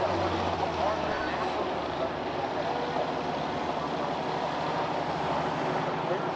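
A pulling tractor with a computer-controlled ignition system makes a loud, continuous engine roar during a pass at an Illini State Pullers event in Paw Paw, Illinois. An announcer's voice may be faintly audible beneath the roar.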